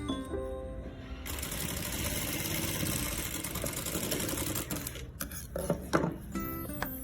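A sewing machine stitches a princess deep-neck blouse, running in a steady mechanical whir close by, then stopping and restarting in short choppy bursts toward the end.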